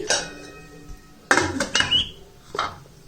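Metal rava idli plates are loaded into a pressure cooker, producing sharp clanks and clinks of steel on steel in a few separate bursts with a brief scraping squeak, close by and without talk.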